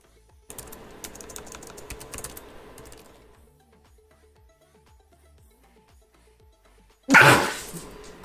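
A single loud, sharp sneeze bursts out near the end, following a stretch of quiet, rapid clicking taps and a lull.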